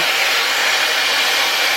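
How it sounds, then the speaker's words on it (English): A handheld blow dryer runs steadily and loudly at close range, a continuous airy whoosh that holds without pause while hair is dried. "A lot of people come down like this and blow dry their hair."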